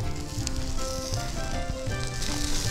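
A sliced onion with red and green chilies frying in oil in a pan for a tender coconut chilly fry, a continuous close sizzle that is moderately loud and unbroken, with no voices.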